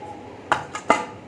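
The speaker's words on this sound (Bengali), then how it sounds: "আর এখানে টমেটোটা কাটছি, চাটনি করবো" A knife cuts through tomatoes for chutney on a kitchen surface, giving three sharp, close chops spaced unevenly over a quiet background.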